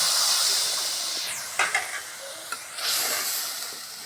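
Water hits a hot pan of onion, garlic and green chilli fried until reddish, bursting into a loud hiss and steamy sizzle that settles, swells again and fades, with no talking.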